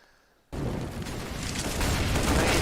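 Sustained wall-bang gunfire spray in a Counter-Strike match on a desert-style map, bursting in suddenly after a quiet half-second and holding as dense, loud, continuous rattling shots to the end.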